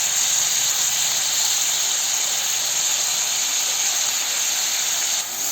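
Onions frying in a pan with salt and turmeric give a steady, loud, close hiss and sizzle that runs without a break and dips only at the very end.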